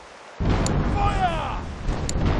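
A ship's cannon fires in the pirate video game The Pirate: Caribbean Hunt: one sudden heavy boom, followed by a broad rumbling roar that carries on for the rest of the moment.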